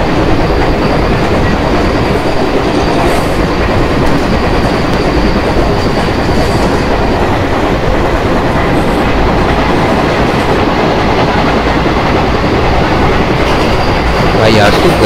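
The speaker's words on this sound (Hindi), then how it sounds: "अपनी ट्रेन की स्पीड तो अच्छी है 100 किलोमीटर पर आवर के अराउंड चल रहे हैं हम" An Indian Railways express train, the Jammu Tawi–Pune Jhelum Express, runs at around 100 km/h in the Open Rails train simulator, producing a loud, steady rumble with rhythmic clickety-clack of wheels on the rails throughout.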